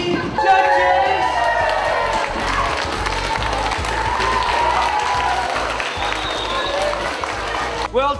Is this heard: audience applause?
yes